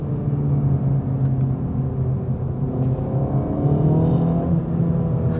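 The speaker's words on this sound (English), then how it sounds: "The engine sounds." The engine of a 2024 Acura Integra Type S during break-in driving, a steady loud rumbling drone heard from inside the car with slight swells in pitch, continuous and without talking.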